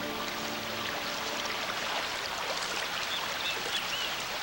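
River water flows steadily through a Central American rainforest, a continuous rushing babble at moderate distance with faint high chirps from birds or insects drifting over it.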